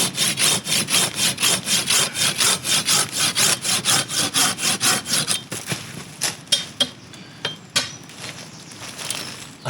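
An inexpensive hand pruning saw cuts through wood in fast, even back-and-forth strokes, loud and close, then slows into a few scattered rasping strokes near the end.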